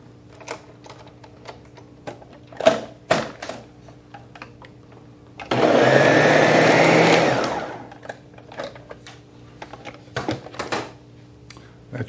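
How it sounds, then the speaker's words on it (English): An electric mixer whirs steadily for about two seconds, blending cherry vanilla ice cream mixture with cherry syrup, surrounded by light clicks and clatter of kitchen handling. "And then we'll give it a quick mix."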